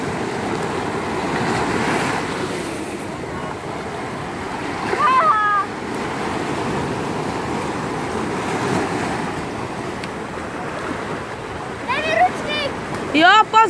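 Sea waves wash onto rocks along a Spanish coast as a steady broadband surf roar with wind, while people talk and call out over it.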